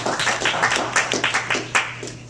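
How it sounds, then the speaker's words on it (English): A small audience at a developer conference talk claps briefly, a sparse patter of distinct hand claps near the microphone over a low steady hum, with no talking. "I think he gets a round of applause making it actually work"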